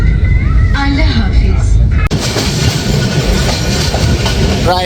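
A train rumbles loudly into Chatmohar railway station in Bangladesh with rhythmic clickety-clack of wheels and a brief squeal, steady and close throughout.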